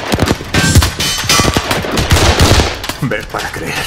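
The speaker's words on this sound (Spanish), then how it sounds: "¿A quién le estarán disparando?" Rapid bursts of automatic gunfire in an action movie scene, loud dense volleys of shots rattling continuously for several seconds.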